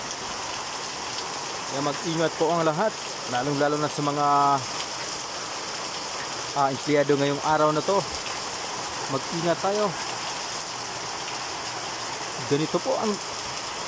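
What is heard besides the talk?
very heavy rain from typhoon Enteng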